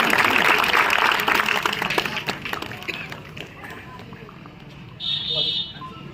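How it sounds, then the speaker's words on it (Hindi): Applause from a crowd at a political gathering in India, loud at first and fading out, with a short whistle-like tone near the end. "तालियों के साथ स्वागत करें भाई साहब का"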